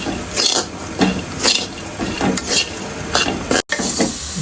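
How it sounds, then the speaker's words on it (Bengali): Peas dry-fry with salt in a new wok, giving a continuous dry sizzle broken by rhythmic scraping and stirring strokes, close and fairly loud, with a brief dropout near the end. "এদিকে ভাজা হচ্ছে এই মটরশুঁটি"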